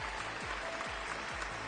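Applause from a television singing competition audience, a dense continuous wash of clapping throughout the short moment with a low rhythmic thump underneath.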